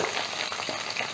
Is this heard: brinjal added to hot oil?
yes